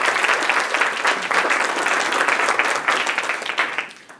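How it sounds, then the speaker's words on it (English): A conference audience claps after a health-tech startup showcase pitch, dense sustained applause that stays strong and then tapers off at the end. "One more round of applause."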